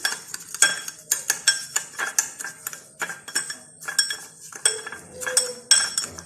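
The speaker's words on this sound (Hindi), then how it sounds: "इसको हम अच्छे से बीट करेंगे जब तक ये लिक्विड पूरी तरह से ब्राउन नहीं हो जाता" A spoon beats instant coffee, sugar and water into a paste, giving rapid close metallic clinks and scrapes against the cup in an uneven repeating rhythm with no talking.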